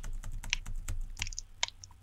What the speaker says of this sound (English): My space bar makes a funny funny sound because I've been playing too much parkour.